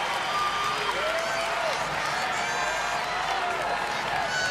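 A crowd at the CrossFit Games, men's event final heat, keeps up a sustained roar of applause and cheering while a commentator talks over it.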